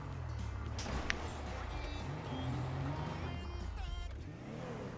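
A minivan drives in GTA 5 with a steady engine drone and shifting pitch as it moves, over a faint soundtrack, while someone talks over it throughout.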